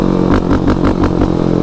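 A high-revving dirt bike engine, a stock Raptor geared with a 15-tooth sprocket, screams at high speed in a loud, steady roar with rhythmic pulsing, heard close and alone.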